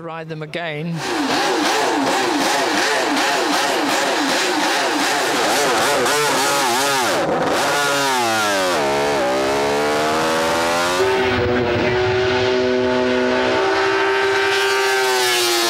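A Honda six-cylinder racing motorcycle engine revs hard and close, pitch sweeping up and down through repeated throttle blips before settling into a steady high whine, at a classic motorcycle racing event.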